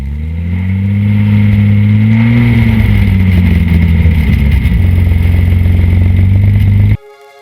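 A 1966 Jaguar XKE engine revving up from idle, the tone rising then holding a loud, steady roar with slight rasp and clatter, close by, before cutting off abruptly near the end.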